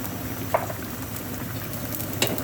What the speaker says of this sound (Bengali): দিয়ে একটু নেড়ে দিয়ে ঢেকে দেবো।